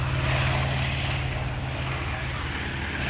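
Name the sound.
Grumman Tracker propeller aircraft engines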